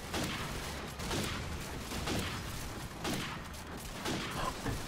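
Gunfire rattles through a Call of Duty 4: Modern Warfare sniping match, dense overlapping shots and booms rolling continuously at steady loudness with a few louder bursts.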